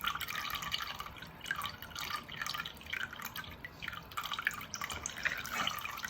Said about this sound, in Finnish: Sitten otetaan vettä. Laitetaan hiukan ylle ja annetaan valua.